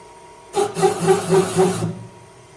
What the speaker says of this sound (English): Mal will demonstrate the machine cutting the valve sheet